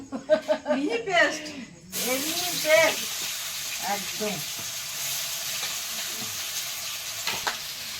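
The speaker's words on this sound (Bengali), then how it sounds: "কড়াই তেল দিয়ে দেব পেঁয়াজটার অবস্থা দেখুন একদম" A person speaks briefly, then a broad, steady sizzle of onions frying in hot oil in a wok takes over and continues at moderate loudness, with occasional stirring sounds.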